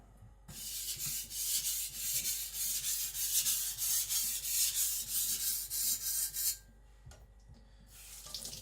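Steady rasping strokes of an IKEA Chinese cleaver edge drawn across a sharpening stone, repeated rhythmically and close for several seconds, then a pause before a few more strokes.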